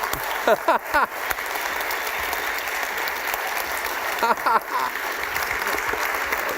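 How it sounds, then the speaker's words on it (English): An audience at a European business forum gives sustained applause, a dense even wash of clapping, with a few brief voices cutting through near the start and again later. "give a great round of applause"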